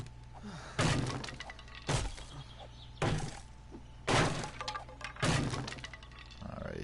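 Objects being smashed in the PS4 survival game 7 Days to Die: five loud, heavy breaking crashes, each a sharp impact with a short shattering tail, spaced about a second apart over a low steady hum.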